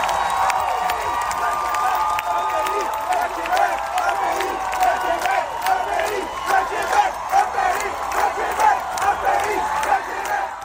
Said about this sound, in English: as the song ended and the applause swelled, some people in the crowd began to shout